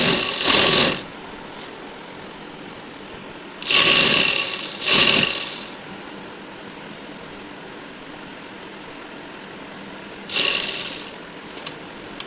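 Sewing machine stitching a housecoat, running in three or four short bursts of rapid whirring, close and moderately loud, separated by quiet pauses with no talk.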